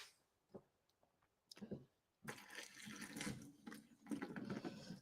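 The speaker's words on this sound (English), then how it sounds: "So we'll just rinse off these a little bit." Food is rinsed under running tap water in a kitchen sink. A few faint taps come first, then a louder splashing flow starts partway through and runs in uneven bursts, close by.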